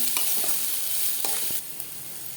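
Two medium onions sauté in a pan toward a brownish color for a green peas curry, a bright steady sizzle with a few close scraping stirs.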